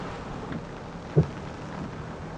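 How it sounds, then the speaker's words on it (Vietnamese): Heavy rain and gusty wind in Ha Long, Quang Ninh, after Typhoon Yagi, a steady broadband wash with one brief thump near the middle, moderately loud and continuous with no talking. "Mưa vẫn còn khá to đấy"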